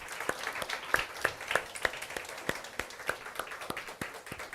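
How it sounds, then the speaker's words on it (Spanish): A church congregation at a Holy Week service claps in a steady, loose rhythm of distinct hand claps, fairly quiet and somewhat distant, with no voices over it. "¿Podemos darle un fuerte aplauso a nuestro Dios?"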